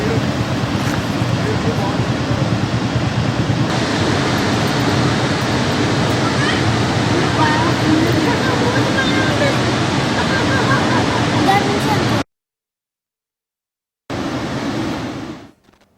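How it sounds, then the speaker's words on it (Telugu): Flood water pours through four raised gates of the Srisailam dam reservoir on the Krishna river as a loud, steady, close roar of rushing water that cuts out for about two seconds and then returns. "ఈ క్రమంలో ప్రాజెక్టు 4 గేట్లు ఎత్తి నీటిని దిగువకు విడుదల చేస్తున్నారు."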